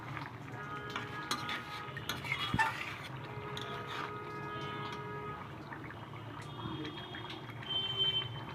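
A spoon stirring garam masala of cardamom, cinnamon, cloves and black pepper into soup in a pot, with soft scraping and clinking against the metal, steady and close, no voices.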